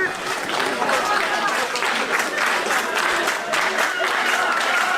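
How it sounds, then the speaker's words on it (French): A crowd at a fight event breaks into loud, sustained applause, with clapping and cheering filling the hall without pause. "Applaudissements dans la foule du Musicam."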